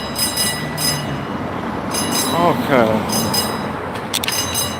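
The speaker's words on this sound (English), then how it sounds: "The train bell." A train bell rings repeatedly in regular strokes as a train passes outside an ICE facility in Portland, Oregon, mixed with rumble and wheel squeal in a loud outdoor scene where a person briefly speaks.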